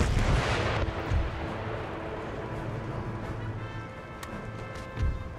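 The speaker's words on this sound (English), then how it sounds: "The artillery fire at will." Artillery firing in Empire Total War, with a dense rolling barrage of heavy booms that open loud and then settle into a sustained, rumbling bombardment with scattered sharper reports and high ringing tones.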